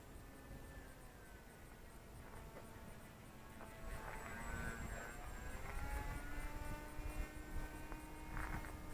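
Volantex Ranger G2 1200mm RC model airplane flying aerobatics overhead in a crosswind, a steady propeller drone that holds at moderate distance and swells slightly louder in the second half as it passes nearer.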